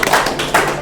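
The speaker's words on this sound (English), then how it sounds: "Round of applause, please" Brief applause at a face-to-face networking hub event after an IT interview, a few loud close claps and thumps that fade within a second.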